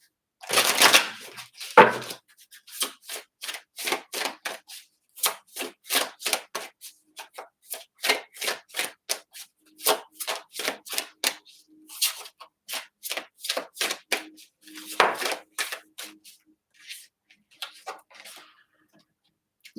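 Lenormand fortune-telling cards are shuffled and drawn by hand in a quiet room, giving dense bursts of riffling at the start and again near the end. Between them come many separate crisp snaps and slaps, with no talking.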